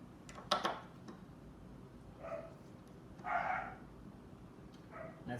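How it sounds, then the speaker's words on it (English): A pet dog barks in short bursts somewhere in the background of a room where a piano is being worked on, about four faint to moderate barks spread unevenly across the stretch. "That's my dog in the background."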